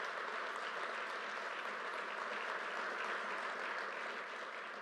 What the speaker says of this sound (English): Everybody here, round of applause to the Port Authority employees who makes it happen.